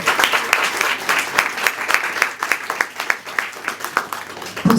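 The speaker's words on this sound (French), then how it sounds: "Si on peut les applaudir encore une fois." Audience applause at the Afap Forum 2016, a sustained burst of clapping from a crowd filling the room at steady loudness, dense and continuous with individual claps standing out.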